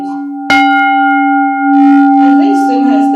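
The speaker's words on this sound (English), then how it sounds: "Here's the bell now." A bell is struck once, loud and close, with a sharp attack and a long, steady ringing tone that sustains. A person starts talking over the lingering ring.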